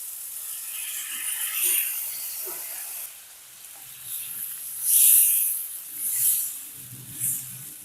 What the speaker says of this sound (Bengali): এবার এখানে দু কাপ মতো গরম জল দিয়ে দেবো